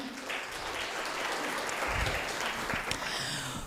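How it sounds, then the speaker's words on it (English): Audience applause at a research chair event and book declaration, a steady wash of many hands clapping at moderate distance throughout, with no talk over it. "Can we clap one more time?"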